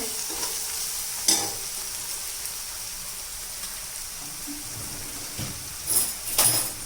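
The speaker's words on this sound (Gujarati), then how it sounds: "આપણી ડુંગળી ખૂબ સરસ શેકાઈ ગઈ છે લાલ લાલ થઈ ગઈ છે" Chopped onions fry to a reddish brown in a pan for a broccoli and pea curry, a steady sizzle with occasional scraping and stirring knocks, louder toward the end.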